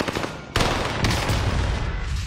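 Loud, sustained gunfire erupts in the video game Warzone, with a fainter volley followed by two sharp, close onsets that roll into a continuous, rumbling barrage.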